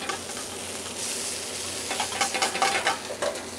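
Gnocchi searing in a hot pan alongside sweet peas and chopped leeks, a steady close sizzle with stirring scrapes and crackles growing busier toward the end.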